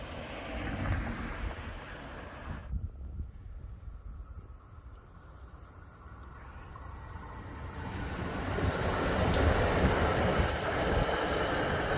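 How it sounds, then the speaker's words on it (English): A train passes through the small town of Narberth near Philadelphia: a steady rumble and rolling wheel noise builds, with a bright hiss that cuts in early and swells louder toward the end as the cars go by close. "That was the accepted train going by."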